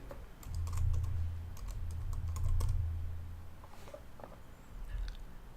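Fingers type on a computer keyboard in quick bursts of close, crisp key clicks, pausing briefly between runs, with no talking.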